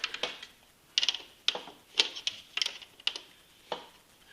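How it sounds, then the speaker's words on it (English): A ratchet loosens the tight chain adjuster bolt on a Honda XM motorcycle, giving short bursts of quick clicking about every half second, close and fairly quiet, with no talk. "So what I do, throw a ratchet in"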